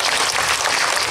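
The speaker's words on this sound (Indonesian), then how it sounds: "tepuk tangan sekali lagi Mas Tejo." A large crowd at a birthday celebration event claps in a loud, dense, continuous roar with no individual claps standing out, close and brief.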